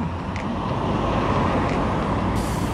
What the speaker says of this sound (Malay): Banyak pula kereta